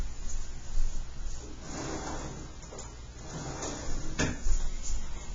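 A drawer at home opened and shut while someone fetches a highlighter, giving soft sliding rumbles, a sharper knock near the end and a faint, close ambience, with no talk.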